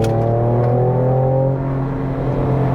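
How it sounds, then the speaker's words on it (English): A 2023 Ford Ranger Raptor engine and exhaust in sport mode give a steady, tonal drone that holds loud and even, with a slight dip in level toward the end. "It is a really nice sounding engine from the cabin and on the outside as well."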